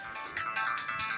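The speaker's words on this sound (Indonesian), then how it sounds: "Wah, ini telepon lagi guys" A mobile phone ringtone signals an incoming call, a bright repeating electronic melody in short pulsing phrases, fairly loud and heard alone without talking.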